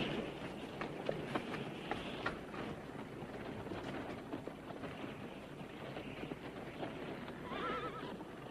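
About six horses pulling a wagon down a road in an Old West film scene, with whinnies and steady clip-clopping hooves that build as the team approaches, with no talk over it.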